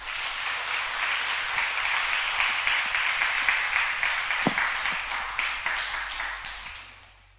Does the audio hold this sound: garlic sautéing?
no